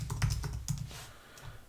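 Rapid, uneven clicking of computer keyboard keys during a typing session, close and fairly quiet, with a handful of distinct keystrokes and no talk.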